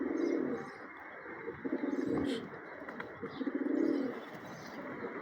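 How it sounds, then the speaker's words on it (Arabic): Grey pigeons coo in soft, repeated rounded phrases, close by and fairly quiet, with a few light chirps and faint background noise between the calls. "شوفوا اجى الطير"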